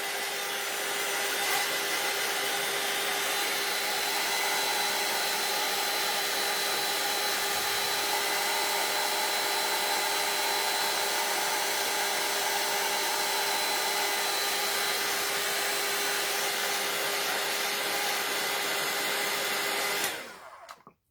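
A hair dryer drying glue on a craft wool spool runs as a steady, close whirring blow with a constant tonal hum throughout, then cuts off abruptly at the end.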